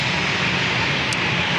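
An airplane roars steadily and loudly overhead during a go-around at San Diego airport, a continuous broadband engine rush with no speech.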